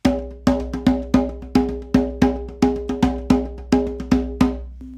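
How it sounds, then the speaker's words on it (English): A tuned hand drum plays a repeating 3-3-2 pattern at a moderate flow tempo. The strokes are loud, close and resonant, with grouped accents cycling steadily. "So the 3-3-2 rhythm at this tempo sounds like this."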